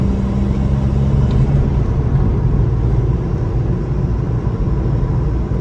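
Steady car cabin noise: a constant low engine and road rumble with a broad hiss of wind, unbroken and fairly loud throughout.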